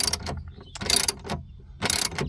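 A ratchet clicks in three quick bursts while tightening window regulator bolts on a 2014 Chevy Cruze, each burst a rapid metallic pawl rattle, close and loud with short pauses between.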